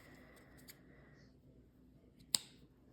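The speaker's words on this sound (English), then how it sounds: "fasten off, and cut off your yarn." Scissors snip through crochet yarn with a single sharp, close, quiet cut in an otherwise hushed room.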